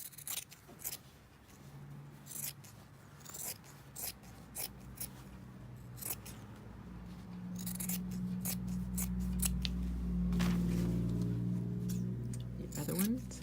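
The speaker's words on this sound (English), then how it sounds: "As I get to the corner, I'm going to cut diagonally across." Scissors snip through fabric in a run of close, crisp cuts, working diagonally across a corner, while a person talks quietly under a low steady hum that builds toward the end.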